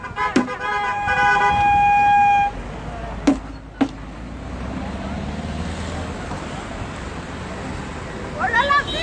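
An emergency vehicle siren passes during a street protest in Pertuis, a short wailing burst followed by a couple of sharp knocks and a distant rumble of traffic. A little voice activity returns toward the end.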